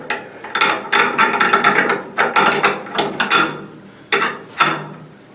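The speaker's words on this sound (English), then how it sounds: "We're going to put the bolt in." Bolt being fitted into an M1A rifle during a restoration, a series of close metallic clicks, ratcheting and sliding clacks in irregular bursts, loud and crisp with no talking.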